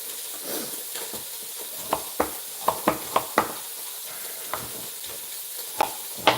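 Ingredients frying in oil in a pot for cabbage soup, a soft continuous sizzle broken by sharp spoon knocks and stirring clatters against the pan, close by with no talking.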